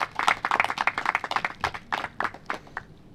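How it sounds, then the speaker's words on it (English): A crowd applauds a young disc golf player at a tee during a professional FPO tournament round, a steady burst of clapping from nearby spectators that thins out toward the end. "Give a round of applause"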